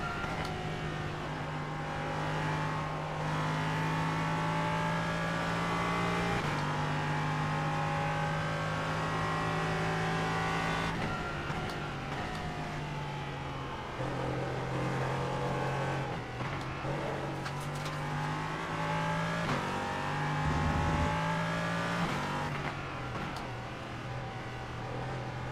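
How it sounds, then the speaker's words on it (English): An LMP3 race car engine roars continuously from onboard, climbing in pitch through each gear then dropping on upshifts and downshifts, with a harsh, buzzing rasp and brief lifts under braking. "it makes a very angry noise at the back of the car"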